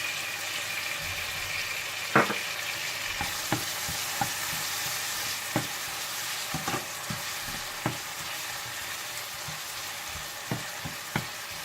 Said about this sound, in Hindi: आप इसमें चाप किया हुआ अदरक लहसुन डालकर मिला लें